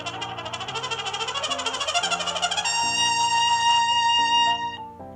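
A trumpet plays a sweet melody whose notes climb step by step, first in short detached pulses, then in longer sustained tones over a steady backing accompaniment, clear and moderately loud with no voices.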